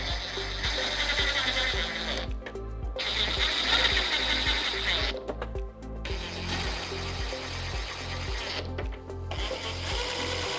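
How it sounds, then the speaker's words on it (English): A ratcheting tool drives screws in to fit the windshield on a 2024-2026 Harley-Davidson Street Glide Ultra motorcycle, sounding as repeated rapid clicking bursts separated by short pauses, close and alone. "Simply slide it down and put your 4 screws in."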